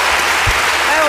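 Studio audience applauding at a televised ice skating show, a dense, loud, continuous clatter of clapping throughout.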